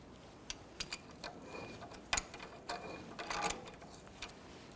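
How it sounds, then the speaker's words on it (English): Spindle nut being spun off with adjustable pliers during front brake work on a 1993-1997 Ford Ranger: a string of light metallic ticks and ratcheting clicks in irregular bursts, close and fairly quiet. "I'm just using a pair of adjustable pliers here to go ahead and spin this off."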